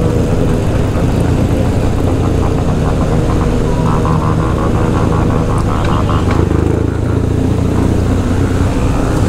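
A BMW GS1200 motorcycle with a broken exhaust runs continuously, its loud, rough engine drone filling the clip steadily from start to finish.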